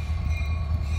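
A Union Pacific train rolls along a nearby railway track, giving a loud, steady low rumble with a faint tonal whine above it and no voices.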